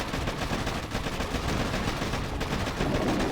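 Dense, rapid gunfire from the Boom Beach strategy game, a continuous rattling barrage of overlapping shots, loud and close for the whole stretch with no talk.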